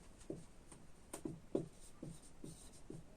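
Rhythmic scratchy strokes of a highlighter writing on paper, about seven short soft swipes at a steady pace, close and quiet with no talking.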